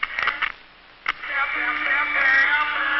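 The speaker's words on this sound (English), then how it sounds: "current causes this radio to produce sound until I remove the voltage" A small radio switches on when voltage is applied and gives thin broadcast sound that cuts out briefly and then returns steadily, near and fairly loud.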